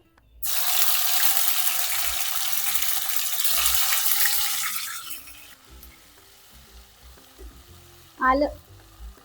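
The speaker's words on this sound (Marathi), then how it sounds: "म्हणून मी इथे छान आलं लसणचा पेस्ट तेलात टाकलाय आणि तेलात परतून घेते छान" Ginger garlic paste hits hot oil with a loud, dense sizzle that runs steadily for about five seconds, then fades to a quieter crackle, with a short clatter of stirring near the end.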